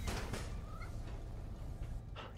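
A cat meows in the Spider-Man: Miles Morales video game, with one short rising cry heard faintly over steady game ambience and a low background rumble.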